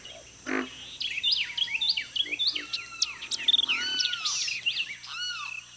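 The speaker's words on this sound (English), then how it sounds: "Carolina wrens and white-eyed vireos are declaring their territories." Carolina wrens and white-eyed vireos sing over each other, bright whistled phrases and quick chirpy notes repeating in a lively outdoor chorus.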